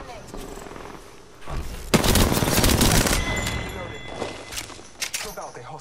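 Rapid automatic gunfire in Apex Legends erupts in a loud, sustained burst, followed by scattered single shots, with voices talking over the shooting.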